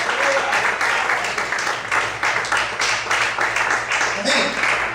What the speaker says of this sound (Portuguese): Você pode aplaudir e glorificar a Deus nessa noite.